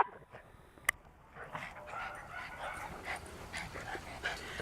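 Miniature schnauzers romp and play outdoors, with faint dog whimpers, yips and panting over a steady background hum, and a sharp click near the start.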